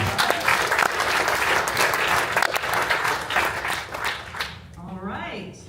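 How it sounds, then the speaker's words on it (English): Audience applause for a startup presenter at a pitch night, a dense sustained wash of many hands clapping that fades toward the end as a voice begins speaking over it. "let's give him one more round of applause"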